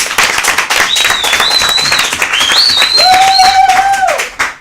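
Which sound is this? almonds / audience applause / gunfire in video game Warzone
audience applause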